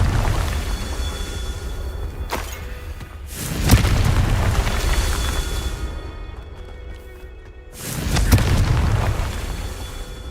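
The Confringo blasting curse in Hogwarts Legacy detonates in two loud, booming explosions several seconds apart, each with a rumbling tail over steady game ambience.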